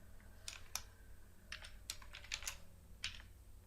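Quiet, close keystrokes on a computer keyboard while an HTML DT tag is entered, coming in small irregular bursts of sharp clicks with short pauses between.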